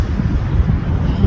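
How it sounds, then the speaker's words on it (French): Strong wind buffets the microphone on a California beach, a steady, loud low rumble throughout with no voices. "Il y a beaucoup de vent"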